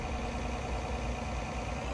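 Small tractor engine idling steadily in Farming Simulator, a continuous low, even hum that holds at a constant level throughout with no talk over it.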